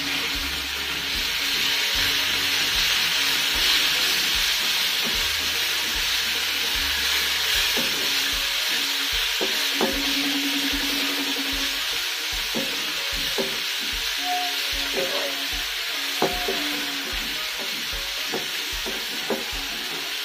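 Salt-coated eggplant pieces frying in oil in a pan for Bengali begun bharta: a steady, loud sizzle that runs throughout, with occasional scraping and clinks from stirring, close-up and with no talking.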